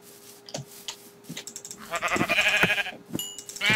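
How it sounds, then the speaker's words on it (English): Minecraft sheep bleat in a modded survival game, short nasal calls near and clear amid clicking and game sound effects, with no talk. "Sheep, get the fuck back."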